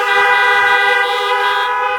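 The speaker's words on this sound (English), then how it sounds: "I think a horn honk would be good here." A car horn blares in one loud, sustained honk lasting about two seconds, steady and close, during an outdoor high school commencement ceremony.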